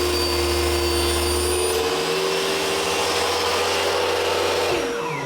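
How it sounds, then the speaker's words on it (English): A power saw rips lengthwise through a piece of softwood, a loud steady whine with a droning hum that holds level and then spins down near the end. "I need to do is to rip down this piece of softwood"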